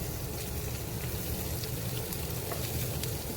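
Potatoes fry in butter on a Pampered Chef Rockcrok grill stone, giving a steady, close sizzle with fine crackling and no pauses or talk.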